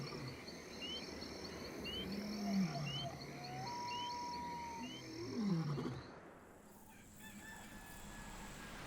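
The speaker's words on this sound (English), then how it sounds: "Heard the lions roaring off in the distance." Lions roar in the early-morning wild, deep rolling calls heard twice at a distance, alongside rooster crowing and other birdsong, with no talking.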